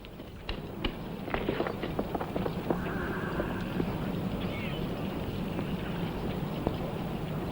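Horses' hooves clip-clopping at a steady pace with an occasional whinny, close and clear, in a Western setting, without speech.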